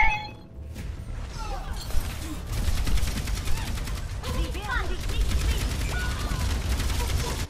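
Turret gunfire in an Overwatch 2 match, a steady rattle of rapid shots with crashes and ability sounds layered on top, moderately loud under occasional talk.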